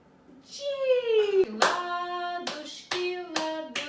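Hand claps in a toddler's clapping game at a first piano lesson, several sharp claps spaced unevenly, mixed with a sung voice.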